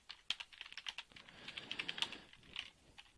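Fast, light keystrokes on a computer keyboard, an irregular run of soft clicks and taps close to the microphone at low volume, with no voices.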